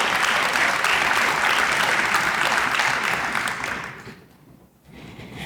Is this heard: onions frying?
no